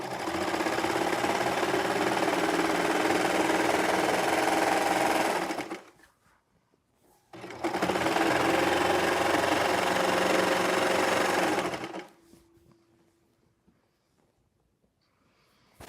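A serger sewing machine stitching pants seams, two loud steady whirring runs of about five seconds each separated by a short pause, then quiet.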